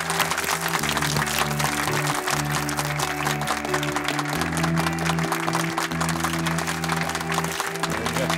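A studio audience claps steadily as a footballer is welcomed onto a stage, continuous dense applause under a bed of music that runs the whole length without a break.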